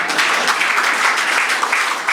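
Audience at a Hindi poetry gathering applauding, a dense, loud burst of clapping from a crowd, continuous and close throughout the brief moment.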